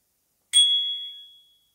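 One bright, clear ding of a small bicycle bell, ringing out and slowly fading in a quiet room.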